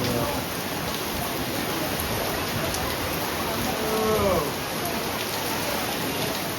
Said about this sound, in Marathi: असं मस्त पाऊस पडतो इथे.